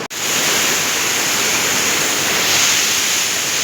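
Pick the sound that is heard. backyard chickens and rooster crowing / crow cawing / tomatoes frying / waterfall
waterfall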